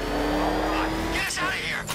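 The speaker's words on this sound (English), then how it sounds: "He's got a friggin' tank!" The tank-like Batmobile in Batman: Arkham Knight gives a loud, close engine roar that revs and surges with rising and falling pitch over two seconds.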